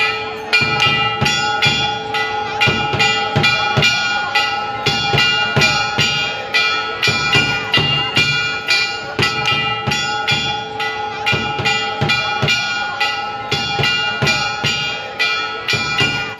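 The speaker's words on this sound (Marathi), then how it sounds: "सुरुवातीला पहिले एक घंटा वाजवला जातो" A temple bell rings over and over in a steady rhythm, its metallic tone ringing on and layering up, loud and close, with no voices.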